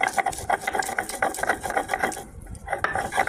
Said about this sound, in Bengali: কাঁচা লঙ্কা আর সর্ষেটা বেটে নেব